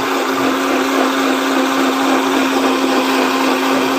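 An electric blender whirs steadily while blending fruit, a loud close motor drone with a strong constant hum and no voices.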